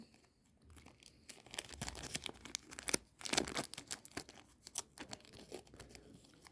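A football card foil pack is ripped open with sharp crinkling and tearing bursts, uneven and close, quiet overall with no talk.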